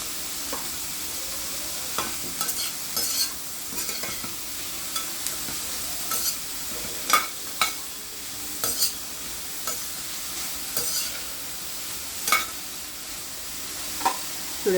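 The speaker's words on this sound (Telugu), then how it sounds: "చూడండి చికెన్ కూడా మంచిగా ఫ్రై అయిపోయింది." Chicken and vegetables stir-frying in a pan for noodles: a constant sizzle with repeated scraping and clacking strokes of a spatula at irregular intervals, close and alone without talking.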